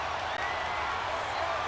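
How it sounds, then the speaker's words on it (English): A high school all-star football crowd fills a stadium with a steady, loud roar of cheering and noise, continuous from start to finish with no clear individual voices standing out. "Here comes a big one as this crowd gets up making some noise."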